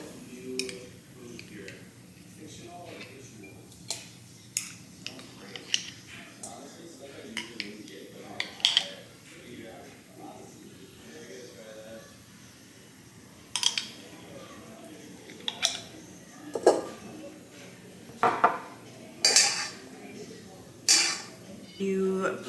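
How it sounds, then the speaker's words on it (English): Pepper jelly is scooped from a 10-ounce glass jar into a mixing bowl, a series of sharp clinks and scrapes of spoon against glass, sparse at first and then more frequent, close and fairly quiet. "I'm literally just going to scoop out half of this into my mixing bowl"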